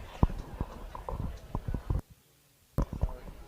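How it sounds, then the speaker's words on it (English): Hooves of a harness racing horse clip-clopping as it walks onto the track, a run of close, irregular footfalls that pauses briefly and then resumes. "the last horse is coming to the track right now"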